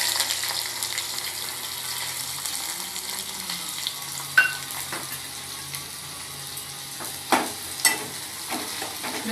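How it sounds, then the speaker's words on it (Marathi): Sliced onions frying in hot oil for bhaji, a soft continuous sizzle with occasional clinks and scrapes of a spatula against the pan, close and moderately loud, no talking. "ब्राऊन होईपर्यंत आपल्याला कांदे तळून घ्यायचे आहे"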